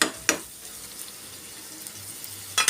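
Prawns frying for chingri bhuna, a soft steady sizzle in the pan broken by a few sharp clanks of a utensil against the pan, with no talking.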